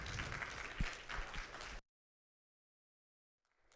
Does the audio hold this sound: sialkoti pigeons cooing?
no